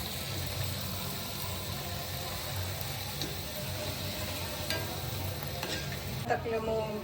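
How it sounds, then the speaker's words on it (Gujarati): Puri frying in hot oil for a Janmashtami dish makes a continuous, moderate sizzle with faint stirring and scraping noises, while a low background hum runs underneath and a brief clatter comes near the end. "કાંઈ નહીં, તમે જો પૂરી તળાય."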